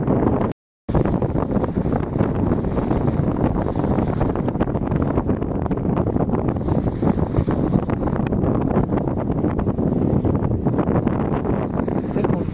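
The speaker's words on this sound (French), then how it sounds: "La mer est déchaînée, bien évidemment, c'est normal" Strong wind buffets the microphone continuously, roaring with a rough sea's rushing water and spray churning underneath near Cap de Creus, loud and unbroken throughout.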